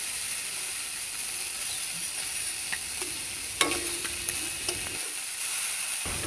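Steady, close sizzling of fish frying in a pan, a continuous hiss with a few sharp crackles and pops partway through; no voices.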